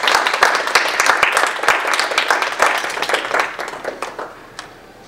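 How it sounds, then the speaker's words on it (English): An audience applauds a guest speaker at a lecture event. The clapping is dense and sustained from many hands, fairly loud at first, then thins and fades toward the end with no talk over it. "So if we would give a nice round of applause for Dr. Ajani Ross."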